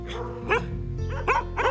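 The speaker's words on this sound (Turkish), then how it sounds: "Diğer bir deyişle Portekiz su köpeği." A Portuguese water dog barks three times in quick succession, close and fairly loud, over a steady low background hum.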